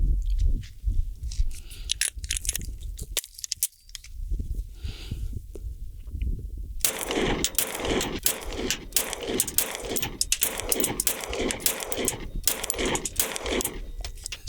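H&K VP9CC compact pistol firing Blazer Aluminum 147-grain rounds, a string of sharp, loud shots in quick irregular succession after a quieter stretch, close by outdoors.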